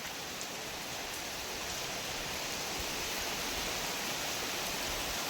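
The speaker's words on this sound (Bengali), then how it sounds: "কিন্তু এই শুরু হয়ে গেল বৃষ্টি" Steady rain patters down in a continuous, even wash of noise, fairly soft and unbroken throughout.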